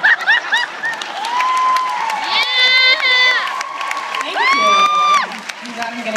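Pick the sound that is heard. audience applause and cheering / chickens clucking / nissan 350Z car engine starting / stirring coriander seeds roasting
audience applause and cheering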